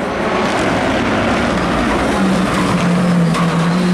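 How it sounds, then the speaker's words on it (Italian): A Porsche 997 RGT rally car on a closed rally stage, its engine a loud continuous roar that holds steady, then rises in pitch toward the end as it pushes hard past. "questa poderosa Porsche 997 RGT della Best Racing"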